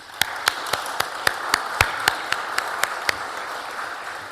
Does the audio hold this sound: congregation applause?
yes